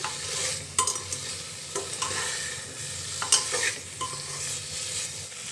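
Onion and spices frying on a low gas flame for chole, a steady soft sizzle with a few louder stirring scrapes, close by, no voices.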